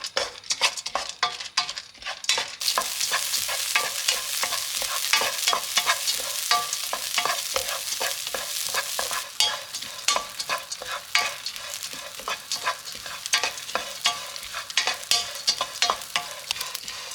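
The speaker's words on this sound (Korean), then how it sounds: "물을 뺀 후에 볶으면 됩니다. 물에 씻었기 때문에 수분을 날려주세요." Freshly washed mixed nuts stir-fried in a dry pan to drive off moisture, with a steady hiss and a rapid rhythmic rattle of nuts and spatula scraping against the pan throughout.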